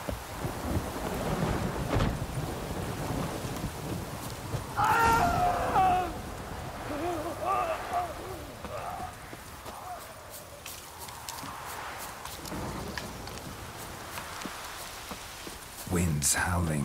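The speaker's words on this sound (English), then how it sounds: "A storm, damn it." Thunderstorm in The Witcher 3 video game: steady rain and rumbling thunder with a louder crack near the end, under game voices and tonal effects.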